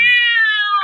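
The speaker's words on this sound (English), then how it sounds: "Clary watched in silent fascination as the cat screamed and leaped against the wall" A cat's loud, sustained scream in an old-time radio horror drama, a single harsh high wail lasting under a second, close and alone.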